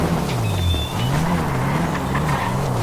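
Car engine in the video game GTA 5, a steady low droning hum that rises and falls in pitch as it revs, continuous and fairly loud with no talk over it.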